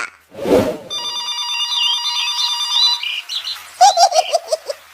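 A cartoon telephone rings in a bright, electronic warbling tone for about two seconds, followed by chirpy bird-like trills and a short burst of noise, close and loud.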